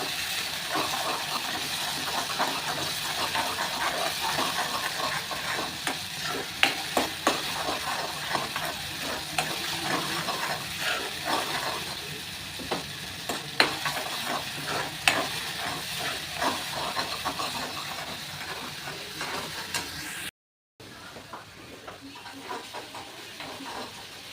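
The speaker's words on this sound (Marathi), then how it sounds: "त्याला मस्त तेल सुटेपर्यंत आहे ना असं मस्त छान भाजू द्यायचं आहे" Ground masala paste frying and sizzling in hot oil while being stirred for spicy shev bhaji, a steady close hiss with scraping spoon clicks throughout, then a brief cutout and quieter sizzle at the end.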